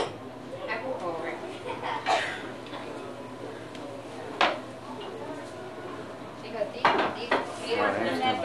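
Metal clinks and scrapes of a spoon stirring a pot in a home kitchen at Thanksgiving, scattered sharp knocks over a steady background hum, with people chatting throughout.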